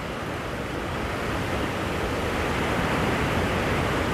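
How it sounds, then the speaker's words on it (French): Steady broadband wash of surf at the shoreline, continuous and fairly loud, with no distinct individual wave breaks and no voices. "On entend les vagues."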